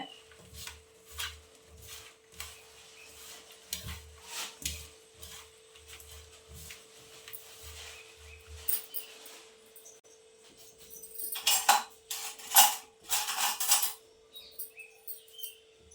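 Okra being tossed by hand with pepper powder, salt and spices, giving soft low rhythmic mixing thumps followed by a burst of crisp, close rustling and clinking, with no talking.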